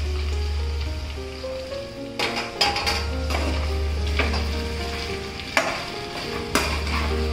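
Chopped onion for Nagpuri tarri poha sizzles in hot oil with curry leaves, a steady close crackle under a low hum, broken by a few sharp spoon-scraping clatters against the pan.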